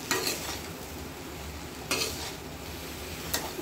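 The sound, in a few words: stirring chopped vegetables with prawns in a pan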